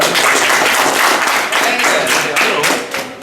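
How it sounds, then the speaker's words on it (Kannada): A school audience claps at a function honouring a teacher, dense, loud applause sustained for a few seconds close by, with no talk over it. "ಚಪ್ಪಾಳೆ ಹೊಡಿದ್ರಿ ನಿಮ್ಮ"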